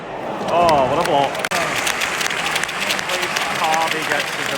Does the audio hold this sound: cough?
no